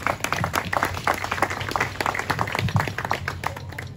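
A small group claps at a Saint John the Baptist celebration in a Masonic lodge, producing scattered, uneven handclaps that carry on steadily at moderate volume with no talk.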